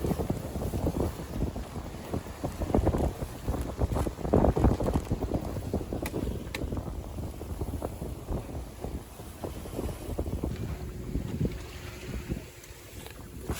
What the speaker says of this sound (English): The wind's getting up more.